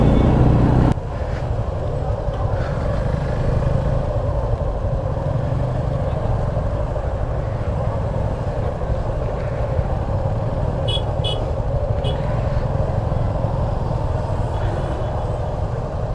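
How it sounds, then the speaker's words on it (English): Steady road traffic and engine rumble on a hill road in the Kodaikanal hills during a large group motorcycle ride, a continuous loud broadband drone with a brief burst of higher noise at the very start. "So much traffic."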